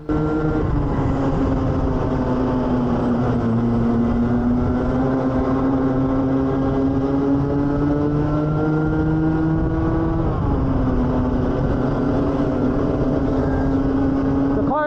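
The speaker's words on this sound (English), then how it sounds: "the engine does bog down and I don't get enough acceleration" A high-revving racing kart engine drones steadily and close, bogging down with its pitch sagging and struggling rather than climbing, then dipping again after a brief shift.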